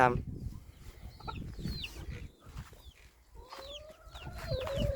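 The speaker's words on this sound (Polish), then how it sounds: "Tutaj kurczaki się mają dobrze, rosną." Chickens in a coop cluck and call in short bursts over a low rustling background, with higher chick-like peeps and a longer drawn call near the end, fairly close and moderately loud.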